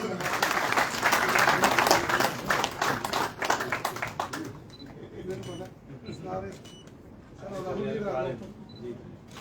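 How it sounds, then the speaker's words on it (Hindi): Loud clapping from a gathered audience at a party headquarters welcome event, sharp and dense for the first few seconds, then thinning out as voices talk over the fading claps. "जोरदार ताली से"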